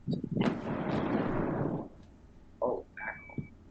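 An ammo dump explodes in a played-back video: one heavy, booming blast that rumbles for over a second, then fades into a few smaller scattered pops and cracks.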